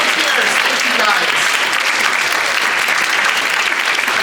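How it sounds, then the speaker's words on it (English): Loud, sustained applause from an audience cheering on volunteers after a comedic scene at a live show, a thick unbroken wash of many hands clapping close by. "Round of applause for our wonderful volunteers."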